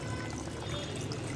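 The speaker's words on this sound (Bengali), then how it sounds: "নিশ্চয়ই ঝর্ণার আওয়াজ আপনারা শুনতে পাচ্ছেন" Water runs in a balcony fountain, making a continuous, even splashing trickle close by, with no talking.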